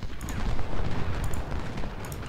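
Cannon fire rumbles across a Civil War battlefield in the strategy game Ultimate General: Civil War, a continuous low booming roar of distant artillery volleys without any talking.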